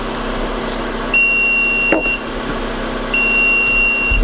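A loud, high-pitched electronic alarm beeps twice in long steady tones, separated by a brief pause. A soft click falls between the beeps.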